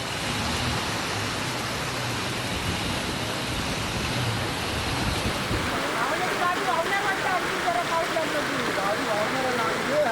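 Heavy monsoon rain pours in Ratnagiri, a dense, steady hiss of downpour filling the scene throughout with no let-up, loud and close.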